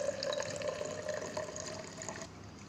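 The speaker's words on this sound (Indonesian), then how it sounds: "Kita tuangkan air ke dalam gelas berpancuran hingga di batas permukaan bibir" Water is poured into a spouted overflow glass during a physics lab demonstration of Archimedes' principle, a steady splashing trickle that stops abruptly near the end.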